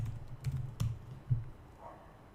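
Several quick keystrokes tapped on a computer keyboard, a short uneven burst of soft clicks close by, then quiet, with no one talking.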